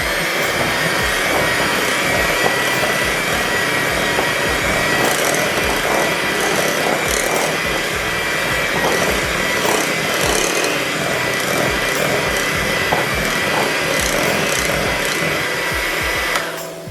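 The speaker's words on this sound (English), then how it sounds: "one of the reasons I like using a hand mixer, as you saw, I'm turning my bowl continuously" An electric hand mixer whirs steadily and loudly through pound cake batter for the full stretch, a continuous buzzing drone with faint scraping ticks as the bowl turns, ending abruptly.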